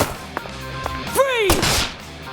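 A single sharp gunshot in Deadly Premonition 2, preceded by a few faint clicks and a swooping tone, then a loud crack with a short ringing tail, close and clear.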